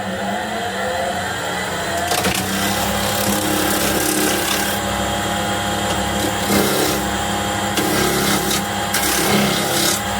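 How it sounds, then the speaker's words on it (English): Wood being turned on a lathe for a flower vase, cut with a continental spindle gouge: a loud steady motor hum with rough scraping bursts as the tool meets the spinning workpiece, close up. "for this project, I pretty much wanted to use my continental spindle gouge."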